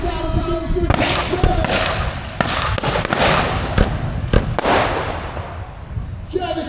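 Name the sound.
pyrotechnic explosions in a mock naval battle show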